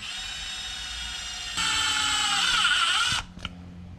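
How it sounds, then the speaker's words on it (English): A power drill whirs steadily, then pitches up under load as a wood screw drives into the seal of a Toyota 40 Series Land Cruiser transfer case, stopping abruptly with a short final buzz. "all we're going to do is get 2 wood screws. We're going to screw them into the seal"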